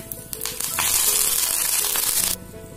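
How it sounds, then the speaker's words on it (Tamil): Curry leaves drop into hot oil where mustard seeds have already popped, bursting into a loud, bright crackling sizzle that holds for about two seconds and then cuts off abruptly. "இதில் இப்போ கருவேப்பிலை போட்டுடலாம்."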